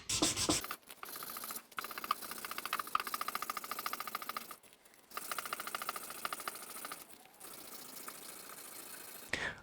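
Guitar frets on a neck being polished by hand with 400 grit abrasive, quiet rapid back-and-forth rubbing strokes in several bursts separated by short pauses.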